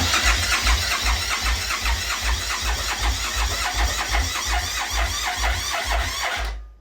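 The 1999 Suzuki Intruder 1400cc V-twin cranks without catching, a loud rhythmic starter churn with repeated pulsing strokes and a squealing edge, continuing steadily for over six seconds before stopping.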